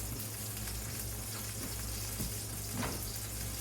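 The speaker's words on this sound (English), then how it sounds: "I have a pork chop frying in the skillet there." Pork chop frying in a skillet, a soft, steady sizzle with occasional small pops, heard alone at low volume.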